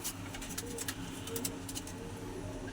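Pigeons of a prized Punjabi flying breed cooing softly in repeated low calls, faint and somewhat distant against a quiet background, with no talk.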